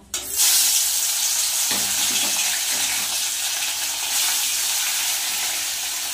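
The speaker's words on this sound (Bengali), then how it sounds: "একে একে মাছগুলো ভেজে নেব।" Steady, loud sizzling and crackling of fish frying in hot oil in a wok, continuous throughout with no voices.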